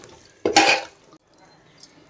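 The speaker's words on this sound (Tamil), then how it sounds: "நல்லா மிக்ஸ் பண்ணிக்கலாம்" Yogurt being stirred into a chicken dish with a utensil, one short burst of clatter and scraping against the pot, a little further knocking, then quiet.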